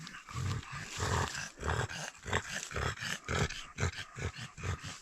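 Dogs growl and snarl in a forest during mushroom hunting, a continuous rough, rumbling run of close growls with rhythmic pulses lasting several seconds.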